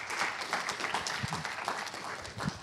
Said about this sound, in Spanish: vamos a recibir con un fuerte aplauso al señor Hernández para que dé inicio a su presentación